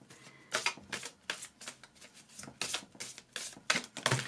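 Oracle cards shuffled and handled by hand, a run of crisp riffling bursts and soft slaps coming in quick irregular clusters, close and fairly loud, with no voice over them.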